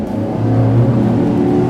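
A boat powered by three V8 350 engines accelerates with a loud, steady low roar that builds slightly as the throttle opens, close by and without speech.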